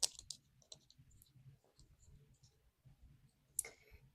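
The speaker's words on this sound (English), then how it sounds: "I snap them together" Plastic parts of a Pokemon Sprigatito model kit snap together with a few sharp, close clicks, and quiet handling rustles fill the gaps between them. Everything is soft and intimate, in an ASMR style.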